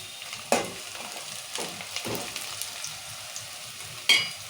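Red chillies fry in a pan for chicken curry, soft sizzling with several sharp stirring scrapes and clacks spread over a few seconds, close and moderately quiet.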